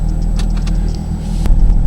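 A Jaguar F-Type sports car with a Miltech exhaust system idles and rumbles loudly up close, a steady deep engine drone that swells slightly toward the end.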